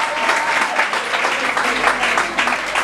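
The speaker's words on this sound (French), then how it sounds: "Acclamons le Seigneur Jésus" Wedding guests applaud inside a church during a ceremony, a steady dense clapping from a crowd that fills the space, with a few voices mixed in beneath it.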